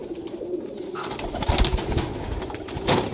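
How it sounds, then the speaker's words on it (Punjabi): Pigeons coo steadily at a loft in Jhelum where a flock of flying pigeons is kept, soft repeated low calls layered over outdoor background noise, fairly close and continuous throughout. "ਉਹ ਕਬੂਤਰ ਵੀ ਨਿਕਲ ਗਏ।"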